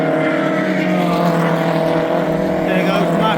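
A BMW 116i race car in a 116i Trophy race at Brands Hatch, its engine a loud, steady, close drone with strong tonal harmonics that holds for a few seconds as it passes the track.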